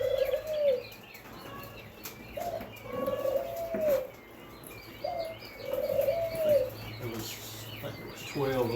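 Newly hatched white mandarin chicks give about five soft, repeated calls spaced a second or two apart, close by, with a person talking quietly between them.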